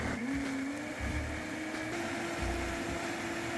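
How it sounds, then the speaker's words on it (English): A blender purees roasted vegetables and kabocha squash into a pear soup with sea moss gel and hemp milk, giving a steady, faint motor whir with a constant hum throughout. "add it to the blender"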